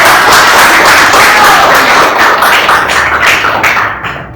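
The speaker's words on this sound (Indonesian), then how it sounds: "Berikan tepuk tangan." A classroom of students bursts into dense, sustained applause, loud and continuous for several seconds before tapering off near the end.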